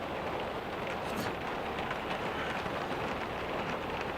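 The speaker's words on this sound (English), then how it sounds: "It has poured all morning, like massive rain" Heavy rain pouring on an off-grid cabin during an intense storm, a dense, steady hiss of drops drumming on the surface without pause, fairly soft and even throughout.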